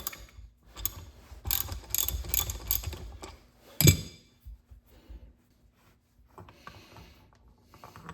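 A socket ratchet works a 1/2 Allen bolt on a Mustang oil cooler filter housing, giving a few bursts of close clicking and metallic rubbing, then a sharp clank, followed by quieter handling noises.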